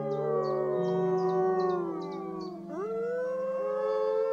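Wolves howl in long, overlapping tonal wails with harmonic layers, a lower steady howl underneath and higher short yips on top, then a sharp rising howl near the end, close and loud with no talk.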